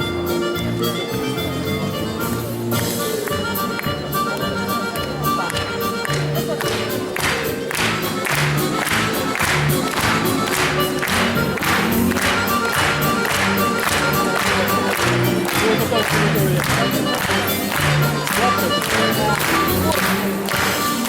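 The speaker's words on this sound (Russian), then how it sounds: "Встречаем вашими аплодисментами." Audience applause at a Kazakh culture stage contest, steady dense clapping filling the whole stretch, loud and sustained with some crowd noise beneath, growing more rhythmic toward the end.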